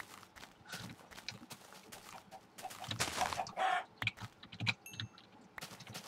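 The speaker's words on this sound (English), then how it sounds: "Oh my god, it's a colony of chickens." A colony of chickens in Minecraft clucks in scattered bursts amid busy clattering game noise and footsteps. There are a few brighter chirps and a louder rush in the middle.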